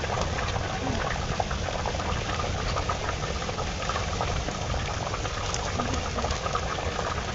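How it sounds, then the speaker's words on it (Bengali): A pot of curry at a rolling boil before fish is added, a dense continuous bubbling and churning rumble heard up close. "দেখুন, তরকারিতে অনেক সুন্দর বলক এসেছে।"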